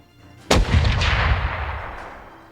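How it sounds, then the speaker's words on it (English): A single loud cannon blast in a Unity-built VR game, a sharp boom followed by a long rumbling decay that fades over about two seconds. "Attack with last cannon."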